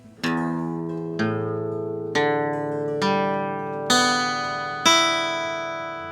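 Guitar in E standard tuning sounds six separate plucked strings one after another, each ringing on and layering into a sustained, clear chord, played close and alone.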